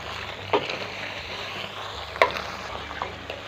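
Chicken frying in a handi pot for biryani, with plum and tamarind added, gives a soft continuous sizzle under a few sharp clanks and scrapes of a spoon stirring, no one speaking.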